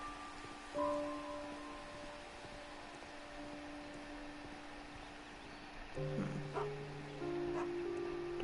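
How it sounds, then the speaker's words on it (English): A dog barks inside the Sherlock Holmes: Crimes and Punishments video game, a short yip early on, then a cluster of barks and whimpers later over a steady, quiet ambient game soundscape with no talking. "Do they have a dog?"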